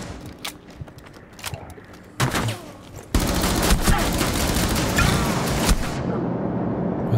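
Rapid bursts of gunfire in the video game Rainbow Six Siege crackle, sparse at first, then a sustained loud barrage of continuous automatic fire that stops abruptly near the end.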